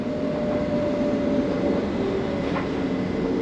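A steady low rumble of a train running on the West Coast Main Line, heard from inside a carriage approaching Tring, with a faint continuous whine and no talking.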